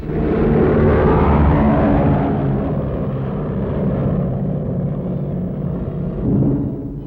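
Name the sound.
four-engine B-17 flying fortress flying by remote radio control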